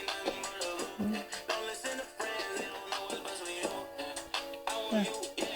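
Music plays through an Asus TUF Gaming F15 2023 laptop's two small speakers, thin-sounding with rhythmic beats and tones but little low-end, at a moderate steady level.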